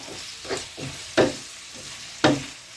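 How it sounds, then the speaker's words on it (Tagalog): Pork sautéing in a small pan for pork menudo, with intermittent stirring scrapes and two sharper clanks of a utensil against the pan over a faint sizzle, close and fairly quiet, no talk. "Ginisa ko lang muna dito yung baboy."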